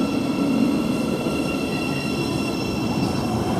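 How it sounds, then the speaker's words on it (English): Great Northern Class 700 unit 700-037 on a Cambridge to London King's Cross service at Royston station, rumbling steadily past up close with continuous wheel noise and thin high squealing tones throughout. "a Great Northern train from Cambridge to London King's Cross, working on the 700s"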